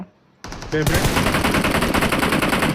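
Rapid automatic gunfire bursts loudly in the mobile game PUBG Mobile, following a brief quiet moment and a few quick shots, then a sustained stream of rapid shots to the end.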